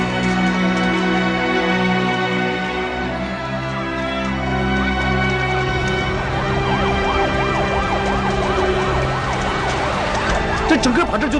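Fire engine sirens wail at a fire scene where a blocked access route holds back the trucks, loud and continuous, with an undulating siren tone rising over the mix partway through and traffic rumbling underneath.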